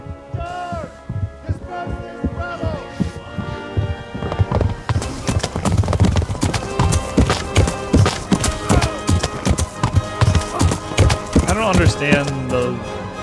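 Horses clip-clopping in the medieval game Kingdom Come: Deliverance, a steady rhythmic patter of hooves layered with game music and hum, with a person talking over the top.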